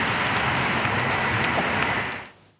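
Heavy stormy rain pours down in a dense, steady hiss that stays loud and constant before cutting off abruptly near the end, with no voices over it.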